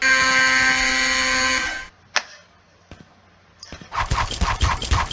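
An alarm blares in the World War II shooter DDay Normandy, a loud sustained tone that cuts off abruptly, followed by sparse clicks and then busy gunfire-like bursts.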